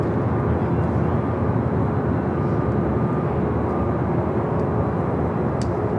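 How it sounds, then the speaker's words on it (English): Delta Boeing 767 airliner taking off at Los Angeles LAX, a steady loud jet engine roar with broad rumble throughout, no talk. "Also a Delta 767, also heading up for north side at takeoff."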